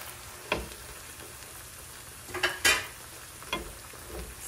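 Marshall sardines frying in a pan with onion and garlic hiss softly while a utensil stirs and scrapes, giving several distinct clinks and scrapes spaced over a few seconds, close up with no talking.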